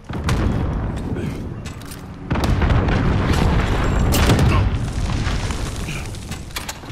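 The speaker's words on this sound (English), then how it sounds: "Enemy cruise missile incoming." Booming blasts and rumbling explosions from a cruise missile strike in the shooter game Call of Duty: Modern Warfare, a loud sustained barrage with a heavy second impact partway through, layered with game noise.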